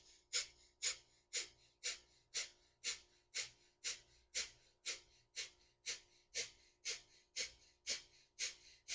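Kapalabhati breath of fire exercise: about sixteen sharp, forceful nasal exhalations in a steady, even rhythm, each a close, loud puff of air with brief quiet between.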